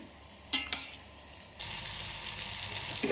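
Boiled red lentils with pumpkin, radish and papaya poured into a hot pan for an alkali (kolkhar) vegetable curry: a few clinks, then a sudden steady sizzle and bubbling hiss continuing to the end.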